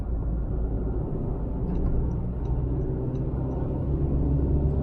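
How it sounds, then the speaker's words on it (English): Inside the cabin of a Honda WR-V manual BS6 diesel on the road, a steady low engine drone and road rumble fill the space, constant and fairly loud with no voices. "a lot of engine noise into the cabin"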